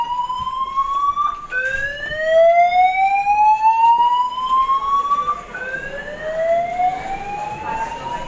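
Loud Redback alarm speakers sound a fire-drill evacuation tone in a university building, a repeating rising electronic whoop that sweeps upward over and over, close and continuous with no talking.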